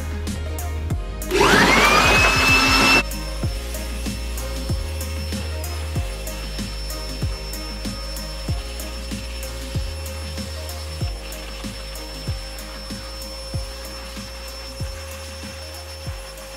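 A Chemical Guys blower blasting air over car wheels, a loud, rising whine that roars for about two seconds and then cuts off, followed by steady low hum and faint repeated ticks.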